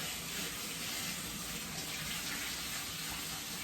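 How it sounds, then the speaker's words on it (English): Cold tap water runs in a steady, unbroken gush over canned beans being rinsed, close and constant for the whole few seconds with no talking. "We're just gonna rinse these off with some cold water."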